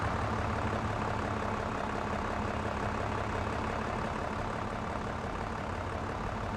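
A telehandler engine in a farm simulator game drones steadily and loudly throughout, a constant heavy rumble with no change in pace and no voices.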